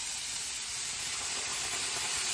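A dash of water hits a very hot pan of chicken and vegetable stir-fry and sends up a loud, steady hiss of steam that fills the short clip, with no talking.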